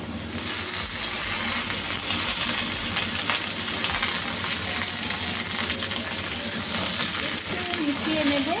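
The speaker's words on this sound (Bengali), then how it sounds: "আলুটা লাল লাল করে ভাজা হয়ে গেছে। এখন আমি ঝিঙেগুলো দিয়ে দেব" Sliced ridge gourd is tipped into a pan of browned fried potatoes, and loud, steady oil sizzling and frying fills the whole stretch. Faint scraping of stirring runs underneath.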